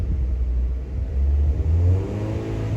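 A Mazda Miata engine revs as the gas pedal is pressed, its low hum swelling and easing in smooth near bursts inside the car, without talk.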